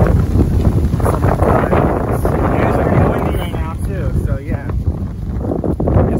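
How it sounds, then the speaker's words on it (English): Strong wind buffets the microphone with loud rumbling gusts throughout, while voices talk and laugh underneath. "it's pretty windy"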